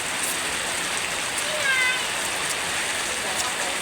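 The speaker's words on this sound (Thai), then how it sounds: "น้ำฝนเนาะหนาฝนแล้วก็ตก" Rain pours steadily outside a house, a loud even hiss of water on surfaces close by, with a brief faint voice sound partway through.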